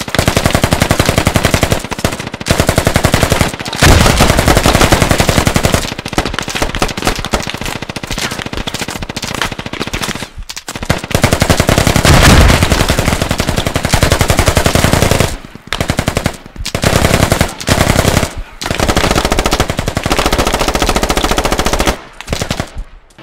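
Gunfire in the game Squad: loud, sustained machine-gun bursts rattle close by, broken by brief silent gaps, with rapid repeated shots throughout.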